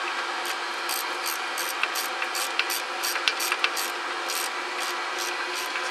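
Ratchet clicking as bolts are snugged down on a rear axle third member during installation, sealed with RTV; a steady run of small rapid clicks, close and moderate, with sharper ticks and scraping mixed in and no talk.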